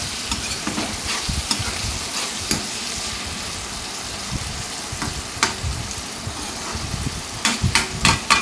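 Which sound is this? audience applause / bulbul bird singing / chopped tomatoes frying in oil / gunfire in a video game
chopped tomatoes frying in oil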